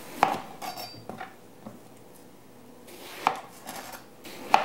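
A kitchen knife cutting the tips off an eggplant on a cutting board gives a few sharp, separate knocks against the board. They are spaced out with quiet gaps between them and sound close, with nothing else heard.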